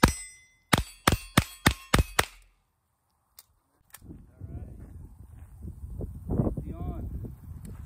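Rounds striking a steel target at a shooting range ring out as six sharp metallic clangs in quick succession, each with a ringing tail, followed by a pause and then quiet talk.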